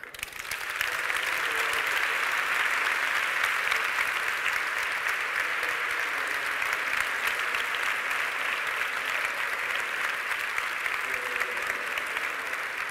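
A large audience at a main-stage talk claps in a dense, sustained roar of applause that rises quickly and holds steady, loud and even throughout with no speech over it.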